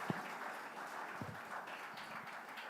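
Conference audience at ThinkEdu 2024 in ITC Grand Chola, Chennai, applauds to welcome the session chair and speakers: faint, diffuse clapping from a large hall that holds at a low, steady level throughout.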